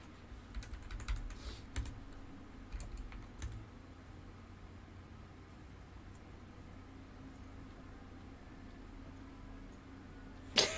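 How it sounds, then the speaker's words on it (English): Quiet typing on a computer keyboard during a block-building game stream, a loose run of soft key clicks that thins out, with a sharper burst near the end over steady background hum. "I am very good at typing slash kick."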